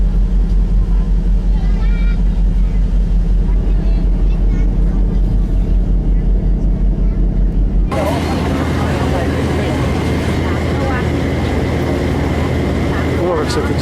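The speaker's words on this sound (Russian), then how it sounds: "Вот наша лодка движется." A Kukut Express boat motors across open water between Laemsok and Kukut island, its engine a steady loud drone that shifts midway into rougher, broader wash and rumble, with a voice speaking over it.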